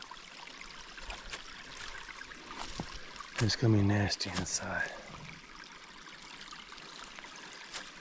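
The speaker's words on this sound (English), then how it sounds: "I've never been up this far in this creek." A forest creek flows with a soft, continuous trickle and burble, partly masked in the middle by nearby speech.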